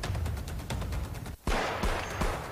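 Celebratory fireworks crackle and pop in a dense, continuous outdoor barrage, loud and near, briefly dropping out before resuming with sharp bursts.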